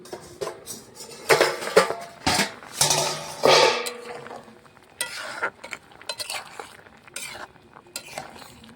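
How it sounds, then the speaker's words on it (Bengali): A metal lid settles onto a cooking pot of jackfruit curry, with a run of clattering knocks and clinks close by, then softer scattered taps of kitchenware. "আমি চাপা দিয়ে দিচ্ছি।"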